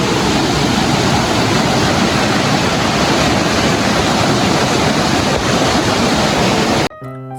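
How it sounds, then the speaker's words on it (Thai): A powerful waterfall near a village cafe in Thailand, roaring loud and close as a dense, unbroken rush of water that cuts off abruptly just before the end. "น้ำตกไหลแรงมาก"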